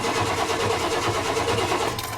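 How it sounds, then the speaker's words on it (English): The engine of a fire boat cranks over continuously without catching, a loud, steady churning drone with a fuel system problem suspected. "It does crank."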